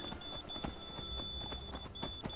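Horse hooves clip-clopping in the Skyrim video game, a quiet, steady walking rhythm of soft hoof knocks under a faint tonal hum.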